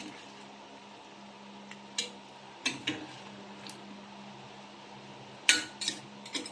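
Ginataan being stirred in a pot, with quiet, sparse clinks and scrapes of a utensil against metal at irregular moments over a faint steady hum, no voices.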